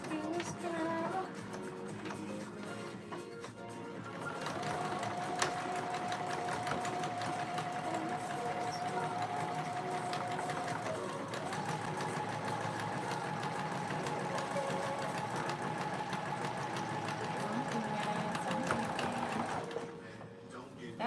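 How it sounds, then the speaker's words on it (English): A home sewing machine with a plastic bobbin runs loudly and steadily for most of the stretch, a whirring mechanical drone with a rattling edge that carries on almost without a break and stops near the end. "That bobbin is crazy loud."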